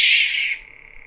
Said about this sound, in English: at the bottom you will see the speaker, and this is the sound of it.